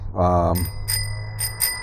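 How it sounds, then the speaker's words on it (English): A short voiced sound is followed by several bright, ringing dings of a bicycle bell, struck in quick succession and close by. "bell."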